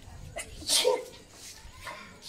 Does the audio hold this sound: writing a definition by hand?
no